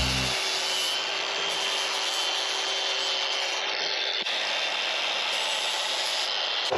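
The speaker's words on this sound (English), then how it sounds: "So what I do need to do is use the angle grinder to grind a little bit on the bottom." An angle grinder grinds the bottom of a part on a Harbor Freight trailer kit, giving a steady, loud, close rasp that runs unbroken through the whole stretch.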